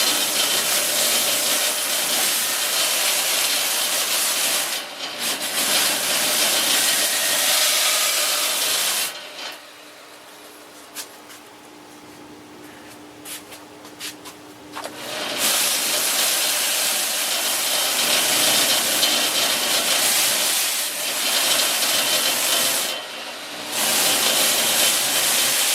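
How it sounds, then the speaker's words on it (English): A Sand Flea drum sander smooths the edges of a wooden puzzle board, a loud continuous abrasive hiss and whir that cuts out briefly midway, leaving quiet handling noises, then resumes and runs on. "I'm over at the sand flea now. I'm going to do some sanding around the edges here."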